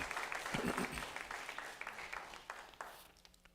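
Applause from a church congregation at a Spanish-language sermon, fairly quiet and thinning out, with scattered individual claps and some crowd noise fading toward the end.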